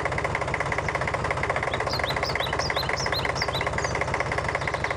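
A tractor engine runs in a children's cartoon, a steady, rhythmic chugging idle with regular knocking pulses, close and even, joined midway by a few short high chirps.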